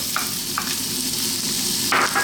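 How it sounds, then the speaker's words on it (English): Ginger, garlic and onion frying over high heat for sweet and sour tofu, a loud, dense sizzle with a few brief sharp hisses and clinks as they hit the pan, close and without speech. "We're going to drop in our ginger and our garlic and our onion."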